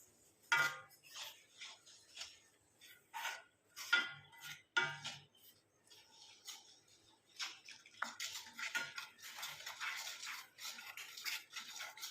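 Herbal hair powders are mixed with lemon juice in a bowl, producing quiet, intermittent scraping and clicking strokes that turn into a quicker, steadier stirring toward the end, faint and close.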